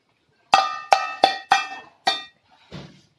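A child bangs on metal kitchen utensils like drums, five ringing metallic strikes in an uneven rhythm followed by a softer duller hit, close and loud with no talking.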